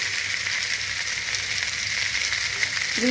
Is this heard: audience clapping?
no